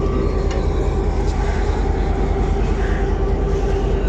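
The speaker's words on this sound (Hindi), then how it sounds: "ट्रेन रवाना होना स्टार्ट हो गई है रोली जंक्शन के प्लेटफॉर्म नंबर 1 से कराची जाने के लिए" Shah Hussain Express passenger train pulling out of platform 1 at Rohri Junction toward Karachi, a steady, loud rumble of rolling railcars with a constant low drone throughout, no voices.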